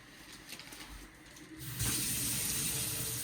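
Water from a newly installed kitchen faucet runs quietly at first, then turns on at strong pressure and roars steadily in a hissing, splashing stream in a home kitchen, with no talking.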